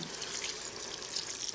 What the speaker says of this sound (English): And then I've just got a cup of water. And I'm just going to pour that